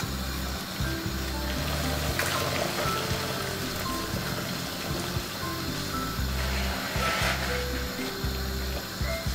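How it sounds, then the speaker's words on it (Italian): Water at a rolling boil in a pot on the stove, heated for cooking spaghetti, gives a steady, dense bubbling rumble that carries on without a break and with no voices. "L'acqua bolle, vado a salare."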